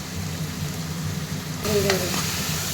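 Chopped onions with salt sautéing in a pan give a steady, close sizzle with soft stirring scrapes and a brief clink midway, continuous throughout.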